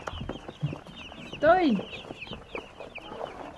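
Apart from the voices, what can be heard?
broiler chicks peeping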